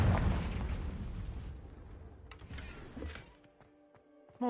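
A Confringo blasting spell in Hogwarts Legacy goes off as a loud, close explosion with a deep rumbling burst. It decays over about three seconds into quiet, leaving a few faint clicks and chimes behind.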